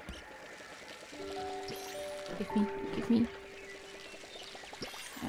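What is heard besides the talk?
watering plants in a garden video game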